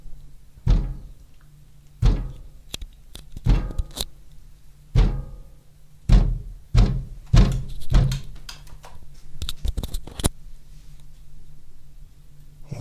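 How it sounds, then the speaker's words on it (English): Loud, heavy bangs on a window, about a dozen thuds in irregular clusters, close by with brief rattles between blows. "Continuous banging can be heard on the window"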